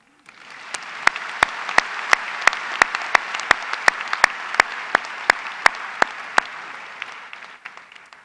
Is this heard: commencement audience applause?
yes